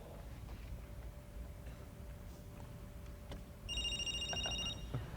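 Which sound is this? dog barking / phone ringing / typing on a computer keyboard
phone ringing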